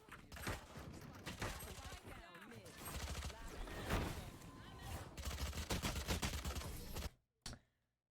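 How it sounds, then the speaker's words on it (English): Video game gunfire crackles in dense, repeated bursts throughout, rapid shots layered over one another, before cutting off abruptly near the end with one last short burst. "Do you not hear that guy shooting?"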